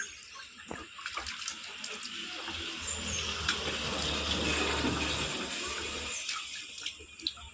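Water runs steadily from a tap while chicken pieces are washed, a faint continuous splashing with small clinks and handling noises throughout.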